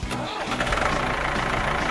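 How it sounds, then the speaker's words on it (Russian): A toy tractor's electronic engine sound cranks and turns over, settling into a steady mechanical rumble that continues loudly to the end, with no voices. "Сейчас заведем мотор."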